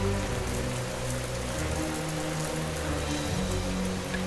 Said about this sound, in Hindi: बारिश शुरू हुई, धीमी धीमी बूंदों से